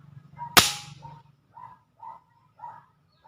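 Airgun fitted with a PVC and epoxy muzzle brake firing a single sharp, loud crack up close, followed by faint muffled bird-like calls and quiet background sounds.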